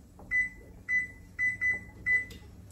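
Five short electronic beeps from a kitchen oven being set to preheat, evenly spaced with a brief double beep in the middle, close and clear over a quiet room hum.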